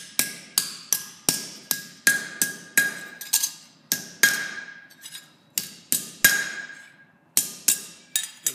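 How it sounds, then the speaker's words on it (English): A curved steel piece is hammered over an anvil horn with about twenty sharp, ringing metallic blows in a steady rhythm, each strike close and bright with a brief decay, some grouped with short pauses. "Just work it over the horn to open it up a bit."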